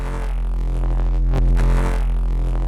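Wavetable synthesizer patch shaped with distortion and heavy OTT multiband compression, a sustained buzzy tone rich in harmonics with a brief sweep in the middle, loud and alone.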